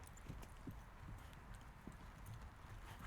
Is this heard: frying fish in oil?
no